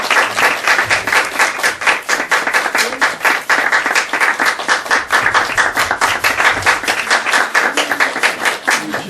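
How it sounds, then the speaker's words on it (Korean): Close, loud rhythmic clapping from a church congregation during a Korean worship service, many hands striking in a steady, evenly spaced beat that continues throughout. "박수해 주세요"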